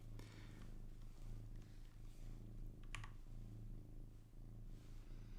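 A pet cat purring close to a microphone, a low steady rhythmic rumble pulsing continuously throughout, with faint keyboard or mouse clicks in the background and no speech.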